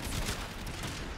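A weapon in the game Warframe fires sticky grenades, heard as a dense, loud burst of rapid gunfire and explosive blasts that fills the whole moment.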